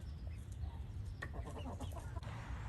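Two older backyard hens resting in the shade, giving soft, quiet clucks in a short burst with faint bird chatter around them.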